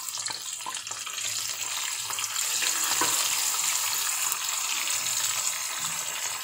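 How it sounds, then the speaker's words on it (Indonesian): Sliced shallots and garlic frying in leftover oil from fried fish in a home kitchen give a loud, steady sizzle with faint stirring clatter, and no one speaks. "Dengan minyak sisa goreng ikan tadi ya, kita goreng bawang merahnya ya sama bawang putihnya ya."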